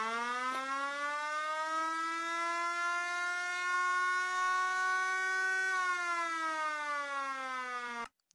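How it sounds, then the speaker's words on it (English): A loud, sustained tornado warning siren in Minecraft wails steadily, its pitch rising slightly then holding before sliding down, cutting off abruptly at the end. "It sounds like a goddamn tornado warning siren truck."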